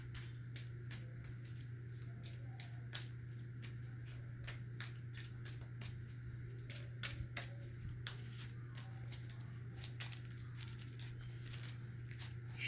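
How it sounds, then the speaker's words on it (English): Marvel Champions card deck being shuffled at a tabletop game, a faint, steady run of soft papery riffles and taps over a low hum, with no talking. "We're going to have to shuffle his deck right now."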